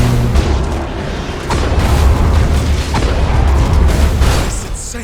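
Spaceship cannons fire in Battlefleet Gothic: Armada 2, a loud run of heavy booming blasts that roll into one another with a deep rumble across the whole stretch, close and powerful.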